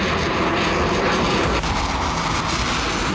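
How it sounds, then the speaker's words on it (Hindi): An IDF fighter jet flying over Lebanon, a loud, steady jet-engine roar that stays constant and close throughout. "आईडीएफ के फाइटर जेट की सोनिक बूम से लेबनान थर्रा रहा है"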